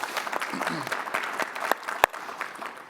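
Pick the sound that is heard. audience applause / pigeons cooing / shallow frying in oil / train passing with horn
audience applause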